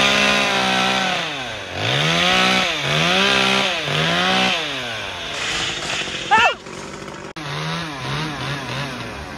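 A chainsaw revs up and down repeatedly while cutting into a coconut tree, loud and close, its whining pitch rising and falling with each pass.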